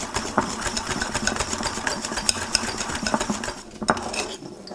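Pancake batter being stirred by hand in a bowl, a utensil scraping and clinking against the sides in a steady, continuous rhythm with occasional sharper taps, close and fairly loud throughout.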